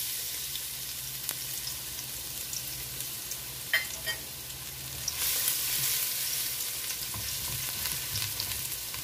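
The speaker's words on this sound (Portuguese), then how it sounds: "não gosto de dourar muito o alho, porque ele perde um pouco o sabor" Garlic fries in a thin drizzle of oil in a pan, giving a continuous broad sizzle with a few brief stirring scrapes and a slight swell in the hiss midway.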